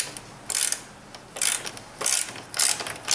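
Ratchet clicking in four quick bursts as a bolt on a GM A/C condenser, Loctited and set through a plastic ear on a Pontiac Torrent or Chevrolet Equinox, is worked tight and loose; close and crisp with short pauses between.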